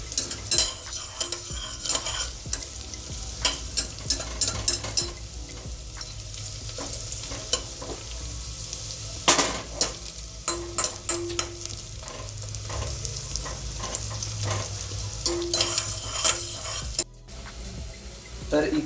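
Cashews frying in oil with whole spices such as black pepper and cinnamon for a paneer biryani, stirred with a metal spoon in a pressure cooker: steady close sizzle broken by frequent scraping clinks, with no talk.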